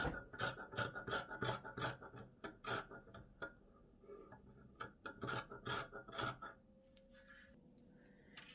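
Scissors cut through plush stretch fabric for a vest lining in a run of close, raspy snips, with a brief pause near the middle and a softer tail at the end.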